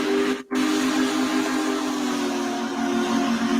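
A steam locomotive whistle in Train Simulator 2021 sounds as a loud, sustained hooting tone with breathy steam hiss, broken by one very short gap and then held steady to the end.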